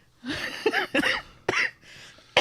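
A few short coughs and throat-clearing bursts close up, spaced irregularly over a couple of seconds, with quiet between them.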